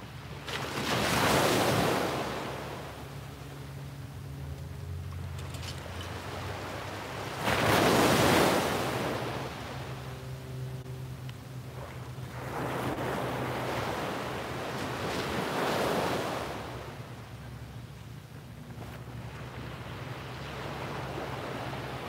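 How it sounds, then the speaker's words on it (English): Ocean surf on a clear morning, waves crashing in slow broad swells every few seconds with a steady wash and wind rumble between, close and fairly loud, no one speaking. "the waves sound amazing"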